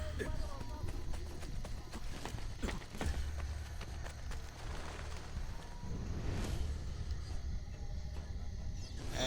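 Horses trot with a steady clip-clop of hooves in the video game Assassin's Creed Brotherhood, the beat running continuously at moderate loudness beneath a constant layer of game ambience.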